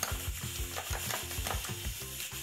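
Two egg whites being beaten for a banana and oat pancake batter, a quick repeated rhythmic whisking and tapping against the bowl, close and steady throughout.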